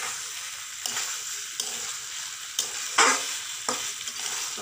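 Soybean curry being sautéed in a pan, with a spatula scraping through it in about five distinct strokes over a soft, steady sizzle, fairly close and with no talking.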